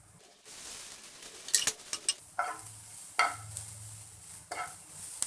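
Paneer cubes and capsicum frying in butter over a medium flame, a soft low sizzle broken by several sharp scrapes and clinks of a spatula stirring in the pan, no voices.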